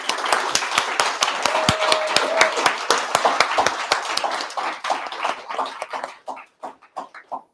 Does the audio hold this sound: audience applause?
yes